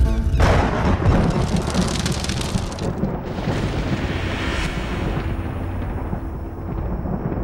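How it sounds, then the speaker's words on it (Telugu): Heavy thunder rolling in a storm, a loud crack at the start followed by long rumbling and hissing rain-like noise that slowly fades. "అవి ఉరుములు రా"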